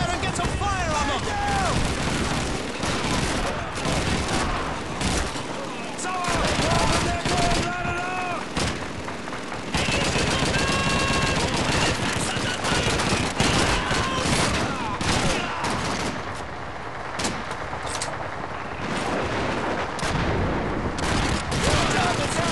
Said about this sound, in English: Davis, get up there and get some fire on them!